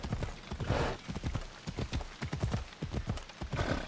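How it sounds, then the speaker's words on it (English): Horse hooves gallop in a steady rapid clip-clop rhythm in the video game Assassin's Creed Odyssey, close and continuous throughout, with no talking. "If this horse would gallop just a tiny bit faster, that would be fantastic."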